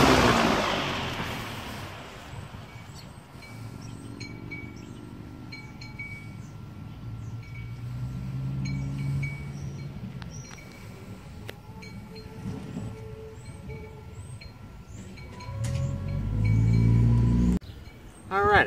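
A Commercial Electric FAEN model SFC1-500B electric fan winds down after being switched off, its motor hum and whir fading slowly and steadily, close by, with a few small clicks and knocks near the end.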